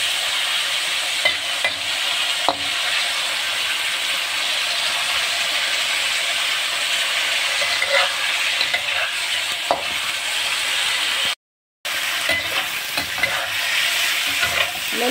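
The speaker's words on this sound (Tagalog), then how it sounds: "Iprito ko muna ang tungkan." Tungkan frying in a pan on a home stove, a steady close sizzle and hiss with occasional stirring scrapes, running continuously with a brief cut-out near the end.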